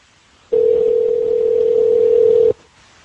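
A telephone line on a radio call-in show gives a single steady electronic tone, loud and close, held for about two seconds and then cut off sharply, with near silence before and after.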